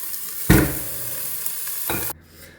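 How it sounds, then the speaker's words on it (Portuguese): Unseasoned meat, with no salt or spices, drops into a hot frying pan and bursts into a loud sizzle that settles to a steady hiss, flares again with a stir, then quickly fades. "Eu vou colocar para fritar. Eu coloco sem tempero nenhum. Coloco sem sal, sem nada, deixo fritar."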